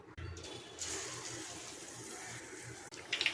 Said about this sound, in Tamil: இப்போ வாழைக்காவை வச்சு எண்ணெயில் விட வேண்டியதுதான்.